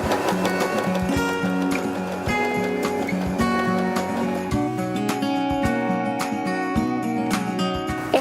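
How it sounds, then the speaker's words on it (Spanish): A Janome 311 sewing machine runs steadily while stitching a blind hem, a continuous mechanical whir with rhythmic needle ticks and clatter, close and fairly loud with no speech. "Y comenzamos a pedalear. La máquina da 3 puntadas en el excedente y una puntada sobre la tela."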